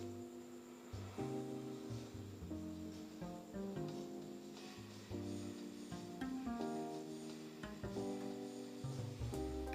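Onion and cabbage pakoda batter fries in hot oil with a steady, soft sizzle. It sits low beneath louder tonal background music throughout.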